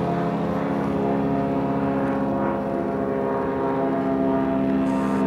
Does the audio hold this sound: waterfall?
no